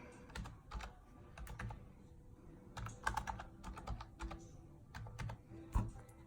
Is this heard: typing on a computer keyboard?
yes